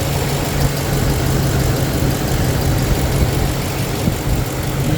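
A 5.4 liter 2V engine idles steadily after repairs, a smooth, even hum with a low rumble and constant level throughout, no voices.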